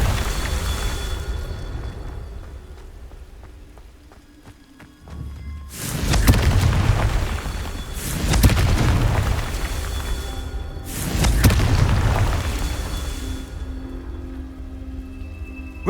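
Confringo explosive spell blasts in Hogwarts Legacy: three loud, rumbling booms spaced a few seconds apart, each bursting with wide crackling debris and fading into a low game ambience between hits.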